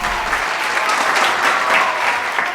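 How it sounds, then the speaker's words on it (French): Circus audience applauding trapeze artists, a dense, steady wash of clapping from a large crowd lasting the whole moment, with no talk over it. "Le public applaudit les trapézistes."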